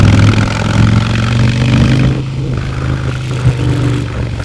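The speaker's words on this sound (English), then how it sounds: "It is one of the best, all-time best motorbike sounds" A 2022 Harley-Davidson Sport Glide motorcycle engine rumbles loud and close with a deep, throaty idle, swelling slightly in a brief rev before settling back.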